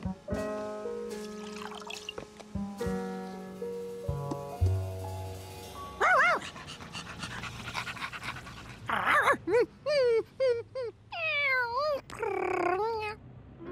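A dog pants and whines in short begging bursts, alongside high mewing cries and bits of background music, in a Curious George cartoon.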